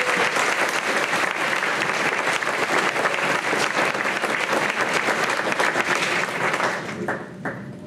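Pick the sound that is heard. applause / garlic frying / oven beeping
applause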